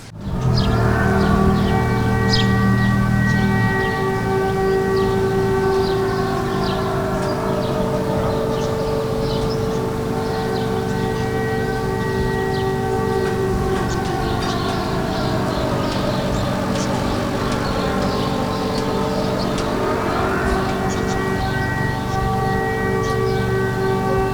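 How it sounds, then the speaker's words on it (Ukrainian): A long air raid alert siren wails over a Ukrainian city, its sustained tone rising and falling slowly, loud and steady across the whole stretch with a distant ambient hum beneath. "Це дуже довгий сигнал оповіщення тривоги."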